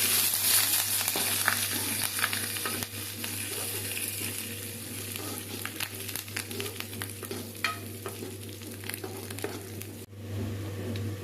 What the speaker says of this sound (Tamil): வெங்காயம் நல்லா வதங்கிடுச்சு நம்ம வந்து கருவேப்பிலை சேர்த்துக்கலாம்